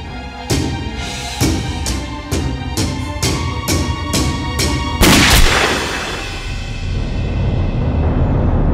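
Gunshots ring out in a Chinese spy TV drama: a rapid series of sharp cracks about half a second apart, then a louder blast that fades into a lingering echo.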